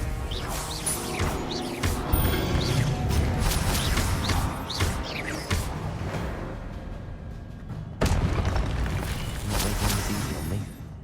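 In Hogwarts Legacy, a Confringo blasting spell sets off crashes and bursts amid game sound effects, with a sharp impact around the middle and a second heavy blast near the end.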